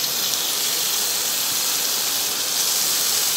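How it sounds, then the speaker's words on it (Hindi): Paneer cubes coated with turmeric shallow frying in hot oil, a steady loud sizzling hiss that holds evenly throughout with no talking. "इस तरह से डालकर इसे सेलो फ्राई करेंगे।"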